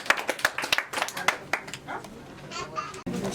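A group of people at a birthday celebration claps in quick, irregular bursts close by, and voices talk over and between the claps.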